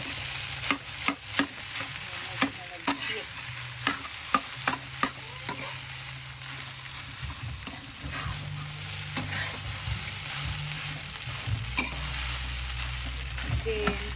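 Fried rice being stir-fried in a hot pan on high heat, a steady close sizzle broken by frequent sharp clacks of the utensil scraping and tossing the rice, with no talking.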